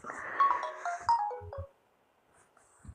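A mobile phone ringtone plays a quick melody of stepped falling tones for under two seconds, then stops, leaving quiet with a soft thump near the end.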